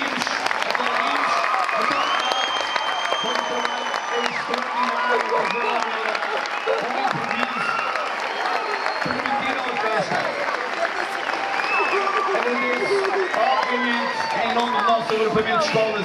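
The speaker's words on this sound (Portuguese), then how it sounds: "Aplaudimos! Aplaudimos!" An audience at a school theatre performance gives sustained applause for an improvised band, with scattered cheers and whoops rising through the clapping and voices chattering beneath it throughout.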